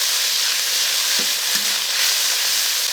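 Garlic and chili bean paste frying in a small amount of oil in a wok, for a Sichuan pork liver and kidney stir-fry. The sizzle is steady and close, with no talking.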